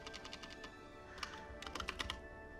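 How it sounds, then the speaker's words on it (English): Fingers tap on a computer keyboard during a Cities Skylines session, scattered soft clicks building into a quicker cluster of keystrokes, close and fairly quiet, with no talking. "Where are my fingers on the keyboard?"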